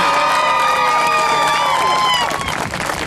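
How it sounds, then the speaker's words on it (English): A crowd of striking Teamsters Red Cross workers cheers loudly, with whoops and shouts over steady applause throughout, easing slightly near the end. "You need to applaud yourselves, and you need to do that right now."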